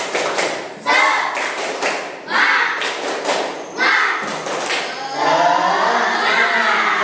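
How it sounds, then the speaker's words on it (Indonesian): A class in Bandung performs the 'tepuk semangat' clapping chant together, rhythmic bursts of group claps alternating with children's chanting voices, loud and close, in quick patterned sets before a final stretch of cheering. "Kita tepuk semangat dulu sama-sama."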